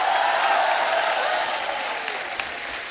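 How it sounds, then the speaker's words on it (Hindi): Studio audience on a comedy show applauding, continuous full clapping from a large crowd that stays loud for the whole short stretch. "तालियां खुल के होनी चाहिए"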